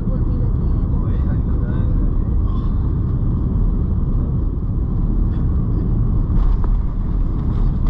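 Steady low rumble of a Nepal Airlines Airbus A330 cabin during approach and landing at Kathmandu, a dense broadband engine and airflow roar that holds constant throughout with faint higher hiss above it.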